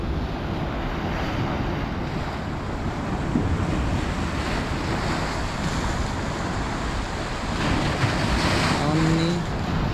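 Ocean waves wash and break onto the shore in a steady broadband roar, heavy wind buffeting the microphone throughout, with a slightly stronger surge near the end and no voices.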